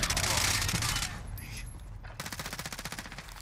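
Gunfire in a competitive shooter video game, dense rapid bursts at the start, then after a short lull another steady stream of rhythmic shots.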